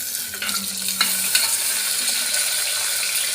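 Tomatoes fry with browned onion in a pan, giving a steady close sizzle that runs throughout, with a few soft stirring clicks near the start.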